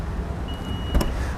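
The power back door of a 2018 Honda CR-V Turbo Prestige whirring briefly as its motor engages, ending in a short mechanical clunk, heard close and fairly quiet.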